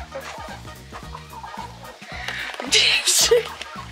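Chickens inside a coop clucking up close in quick, repeated calls, with louder scuffling and wing rustle toward the end, mixed with faint human sounds.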